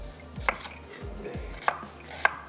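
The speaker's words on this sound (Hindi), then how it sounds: "इसको भी थोड़ा सा रफली चॉप कर लेते हैं" Onion and fresh coriander being roughly chopped with a knife on a board: a few sharp, separate knife strikes spaced unevenly over a quiet kitchen background, no voices.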